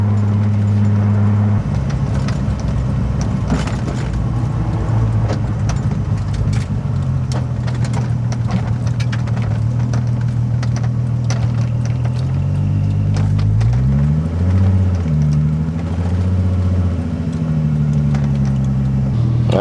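A 600 hp Toyota MR2 Spyder with a swapped VR6 engine drives steadily, its engine droning loud and close, rising and falling through revs and gear changes near the end, with no talk.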